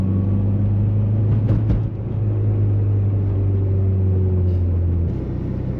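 Volkswagen Mk4 R32 with a cold air intake idling while warming up after sitting unused, a loud steady low engine drone with a faint brief rise partway through, close by and without talk.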